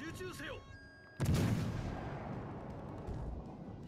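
Naval cannon fire in the World of Warships Legends game from a cruiser, a single sudden heavy boom with a long rumbling decay, following a short stretch of excited talk.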